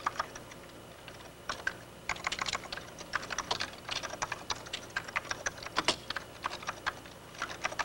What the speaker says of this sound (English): We'll just type in the text here.